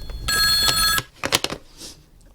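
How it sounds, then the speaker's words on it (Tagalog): A telephone rings with a loud electronic trill that lasts about a second, then stops, followed by a few short knocks or clicks nearby and then quiet. "Ako lang ikabot sa telepono."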